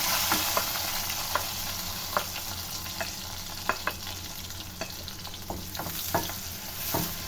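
Whole dried red chillies and one chopped medium onion frying in oil for a dal tadka, a soft, steady sizzle punctuated by irregular sharp clicks and spoon taps as the pan is stirred.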